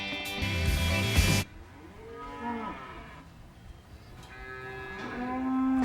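Cattle mooing in a farm cowshed: a loud, long low moo opens, followed by several fainter, drawn-out moos from more distant animals, with no talking.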